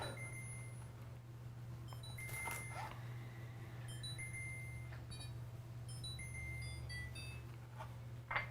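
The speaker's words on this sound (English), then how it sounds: "I hear my timer going off, guys." A kitchen timer goes off in a home kitchen during cookie baking, giving short bright beeps in repeated clusters over a steady low appliance hum, with no talking.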